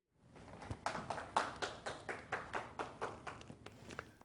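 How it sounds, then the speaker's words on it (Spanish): Applause for the first-round winner at a gathering in a Western setting, a steady patter of clapping hands with rhythmic peaks, moderately close and without talk. "Un aplauso para el ganador de la primera ronda, el señor Fleming."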